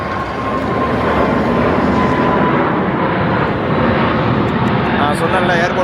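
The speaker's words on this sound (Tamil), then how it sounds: "எமிரேட்ஸோட A380 ஃப்ளைட்டு டபுள் டக்கர் டேக் ஆஃப் ஆகி போகுது பார்த்தீங்களா" An Emirates Airbus A380 double-decker airliner takes off near the airport, its loud, steady jet roar filling the air continuously while a person talks over it.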